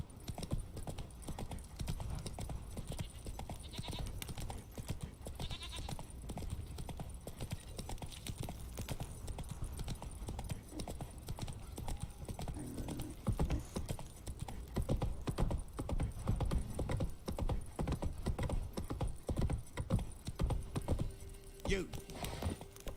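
Horse hooves in The Witcher 3 game, a steady, close clip-clop rhythm running throughout over a soft ambient bed, with occasional speech layered on top.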